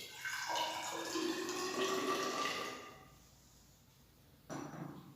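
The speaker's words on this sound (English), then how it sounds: "we will add water in the measuring cylinder for two different samples" Water pours into a measuring cylinder for a soil sample test, a close splashing trickle whose pitch rises as the cylinder fills. It tapers off, and a brief second splash follows near the end.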